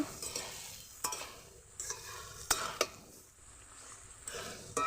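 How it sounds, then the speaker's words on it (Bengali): Malabar spinach greens are stir-fried in a pan, a soft sizzle broken by several sharp spatula scrapes and metallic clinks against the pan, with no speech. "ভালো করে তো আমার শাকটা অনেকটাই কষানো হয়ে এসছে দেখুন"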